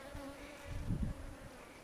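Honey bees buzz at an open hive during an inspection, a close, steady hum that swells briefly in the middle, with no talking.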